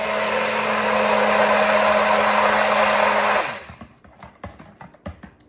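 A stick blender whirs loudly in Earl Grey tea soap batter already at thick trace, then cuts off after about three seconds, leaving scattered clicks and scraping in the batter.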